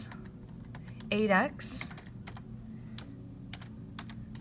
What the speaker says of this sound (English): I am not so good at typing and showing you guys on the computer